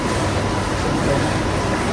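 An SMT production machine runs on an LG Electronics factory line, giving a steady, dense mechanical hum and whir that holds at an even level throughout, with no voices over it.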